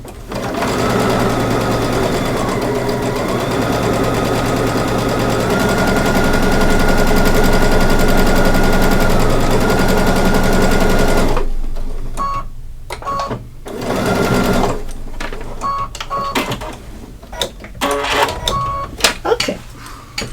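A sewing machine stitches fabric for a Santa gift bag in one long steady run. Then come short bursts of stitching with pauses between them, all close and clear.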